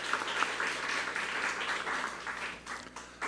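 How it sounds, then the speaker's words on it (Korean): A church congregation at a Korean-language service applauds the choir and praise team, a sustained crowd of clapping hands at moderate loudness that thins slightly toward the end. "우리 성가대를 위해서, 우리 찬양팀을 위해서 격려의 박수 부탁합니다."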